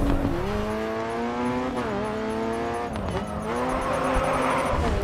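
A race car engine revs and drifts in Grid 2, with a high, shifting whine and tire noise, loud and continuous without talk.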